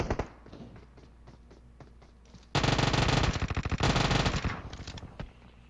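Automatic gunfire in the mobile battle royale game PUBG Mobile: a loud, sustained burst of rapid shots that briefly pauses and resumes, with quieter scattered distant shots before and after.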